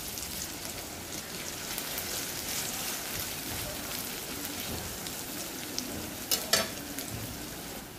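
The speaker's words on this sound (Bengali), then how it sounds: "তার জন্য পেঁয়াজ আর তেল দিলাম, পেঁয়াজটা ভেজে নিব।" Onions fry in oil on a stove with a continuous, even crackling sizzle close by, plus a couple of brief sharper spatters near the end.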